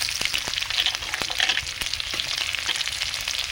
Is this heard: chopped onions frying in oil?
yes